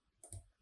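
A single computer mouse click, faint and close, against quiet background hiss.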